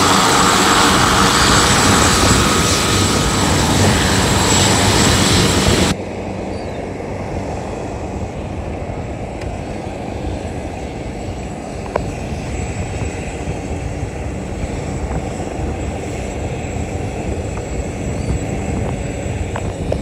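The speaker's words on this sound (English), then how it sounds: "that top propeller is still spinning full speed" An Ornge rescue helicopter with its top rotor spinning at full speed gives a loud, continuous engine and rotor drone that drops to a lower, steady level partway through.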